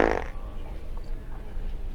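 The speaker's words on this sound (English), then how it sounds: "You will fart for me." A fart sound from a comedic B-movie riff, a short blurting burst at the very start followed by a low rumbling tail, with no voices.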